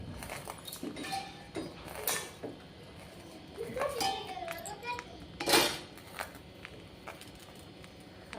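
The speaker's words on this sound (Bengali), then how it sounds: "এর উপরে আমি একটা ঢাকনা দিয়ে দেবো।" Metal kitchenware clinks and clatters as a lid is set on a pot of small-fish curry, with a few sharp knocks and scrapes amid quieter handling sounds.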